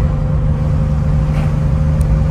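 A 1979 Porsche 911 SC Targa cruising on a mountain road with the top up and windows down: a steady, loud engine drone with a low hum and constant road and wind rush, no talk.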